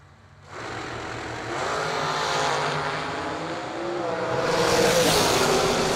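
A drag racing dragster fires up and runs at a Christmas bash event, a sudden loud engine roar that builds and rises in pitch as the car pulls away, with no speech over it.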